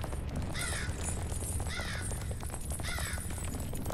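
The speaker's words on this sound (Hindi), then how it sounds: "ये कौवा गुरमीत को बुला रहा है" A crow in the video game Chained Together caws three times in a regular rhythm, each call a harsh, clear rasp over a dense, steady background of game ambience.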